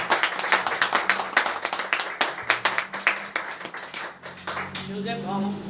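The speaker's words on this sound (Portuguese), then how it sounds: "Palmas ao Nazareno." Church congregation claps in a quick, loud run of sharp, rhythmic hand claps, close and dense, tapering off as a voice and a low sustained tone take over at the end.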